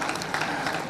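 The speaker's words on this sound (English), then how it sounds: "Clap for yourselves because you've been calm ever since" A studio audience claps steadily during a live television news program, a broad, even wash of many hands with no breaks.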